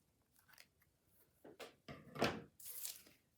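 Scissors trimming paper for a handmade craft card: a few quiet, separate snips and rustles, close and soft, spaced out over a few seconds with no talk.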